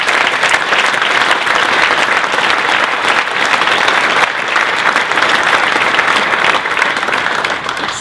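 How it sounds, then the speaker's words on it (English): A round of applause for a Kick It Out team at an event, dense loud clapping from a sizeable crowd, unbroken and even for the whole stretch. "if I can get one more round of applause just for them as well"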